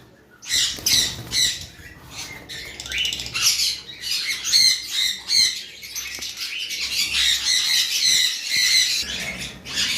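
Lovebirds, including albino Fischer's lovebirds, squawking and chattering loudly at a bird market, a dense burst of sharp overlapping calls with fluttering, close and continuous after a brief quiet start.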